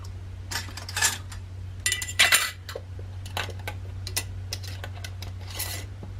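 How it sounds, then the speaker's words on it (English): Metal lids and rings clink and scrape against glass canning jars of stewed tomatoes, a run of small irregular taps and rasps over a low steady hum, close and moderate. "I'm gonna finish putting the lids on these"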